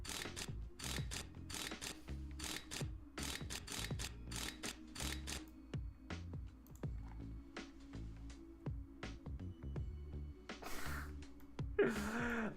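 Bolts are ratcheted tight in Tank Mechanic Simulator, a steady run of repeated clicking ratchet strokes with metallic tool taps, one after another at close range, with no speech.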